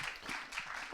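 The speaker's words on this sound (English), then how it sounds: "First, a round of applause." An audience applauds after a presentation, a brief, faint patter of many hands clapping at a distance.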